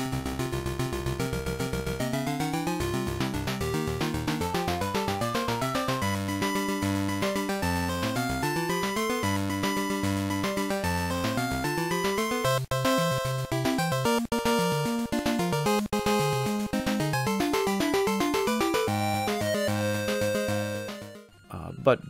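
Chiptune stage one music from Burai Fighter Deluxe on the Game Boy plays continuously with bright melodic square-wave lines and bass, layered with game sound effects, before cutting off abruptly at the end.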